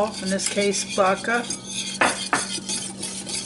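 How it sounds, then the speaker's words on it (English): A spoon clinks and scrapes against a pot while gummy bear mixture is stirred after vodka is added, metallic taps and rubs sounding close under a voice. "Another 2 minutes to stir."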